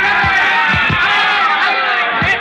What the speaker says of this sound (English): the thud of their punches echoing dully above the roar of the crowd